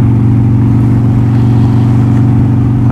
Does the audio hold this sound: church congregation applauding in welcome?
no